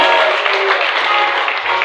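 A congregation at a church service applauds in a dense, loud, continuous wash of clapping that lasts the whole moment with no pauses.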